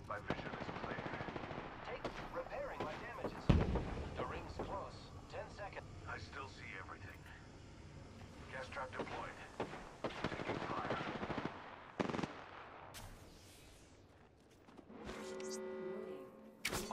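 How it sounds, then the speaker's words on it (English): Gunfire in the Apex Legends video game: bursts of rapid automatic fire and single sharp shots, close and loud, with players talking over the action. "They shot me through the gate."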